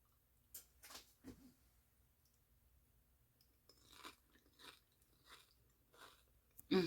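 Quiet, close crunching bites and chewing of a tapioca snack with a crunchy shell and soft filling come in irregular bursts, with soft mouth sounds between them and a louder crunch at the end.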